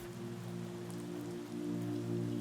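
Steady rain patters on surfaces in an even, continuous hiss with a low constant hum underneath, no voices present.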